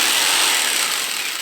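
A jigsaw cuts through sheet metal in a brief, loud, harsh rasping burst that fades slightly toward the end.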